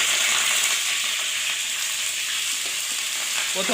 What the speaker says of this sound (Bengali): এখন তেল দেওয়ার পরে এখন কুচানো পেঁয়াজ দিয়ে দিব